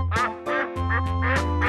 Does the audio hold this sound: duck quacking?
yes